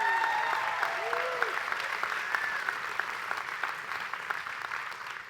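An audience at an annual meeting applauds its speakers: dense, steady clapping from a crowd filling the room, loud at first and slowly tapering, with a few whistles mixed in.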